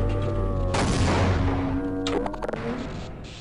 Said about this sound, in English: I'm gonna throw a grenade all over there,